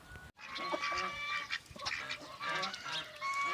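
Several geese honk and cackle in overlapping calls, fairly close, with a brief gap near the start.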